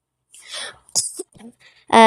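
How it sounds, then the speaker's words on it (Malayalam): A few short, harsh coughs in quick succession, close by, followed by a brief voiced sound. "ചുമ വന്നത്."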